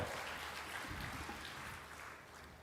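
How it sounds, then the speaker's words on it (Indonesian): An audience at an official groundbreaking ceremony in Bali gives a brief, fairly faint round of applause that sounds like a continuous wash of clapping, fading slightly toward the end. "Tepuk tangan untuk beliau."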